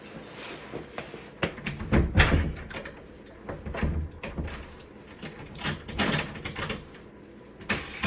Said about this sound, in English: I have to put my phone so I can close the door.